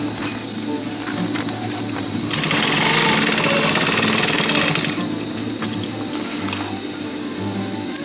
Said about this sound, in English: Stopping at the middle, turning it around and sewing it back to the starting point.